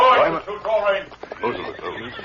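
A horse neighs loudly and close in a radio drama, a long whinny followed by snorting breaths, with a white horse carrying a masked rider on a trail.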